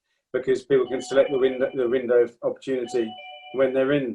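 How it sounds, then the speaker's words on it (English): An electronic home doorbell rings with thin sustained tones, faint and partly buried under a man's continuous speech. "And that's my doorbell ringing"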